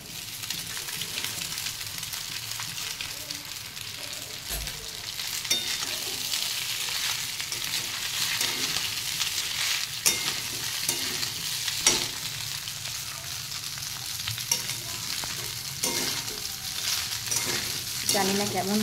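Pasta being fried in a pan together with well-browned fried onions, a steady close sizzle and crackle with occasional stirring scrapes, continuous throughout with no talking.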